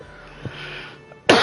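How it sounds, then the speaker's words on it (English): Man coughing once, a single sharp burst near the end after a quiet, faintly humming stretch. "I don't know why I'm coughing so much."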